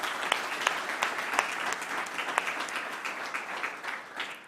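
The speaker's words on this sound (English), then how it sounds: "Shall we give them a round of applause?" Enthusiastic audience applause, a steady dense wash of many hands clapping with a few sharper claps standing out, sustained throughout.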